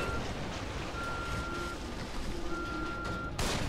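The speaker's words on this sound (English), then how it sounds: "So once it starts beeping," A device beeps in The Evil Within horror video game: two long, steady tones with a fainter lower one, partly masked by constant loud rumbling noise.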